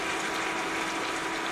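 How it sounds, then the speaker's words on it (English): Hot water pours over tomatoes in a steady, loud, rushing gush that fills the whole moment without pause and with no talk. "pour hot water all over it"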